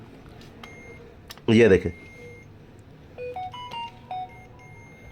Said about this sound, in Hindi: अब ये बज़र बोल रही है इसकी